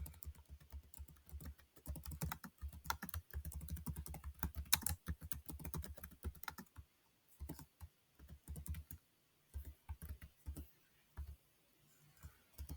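Typing on a computer keyboard: rapid, close key clicks in dense bursts, then sparser scattered taps with short pauses, alone in a quiet room.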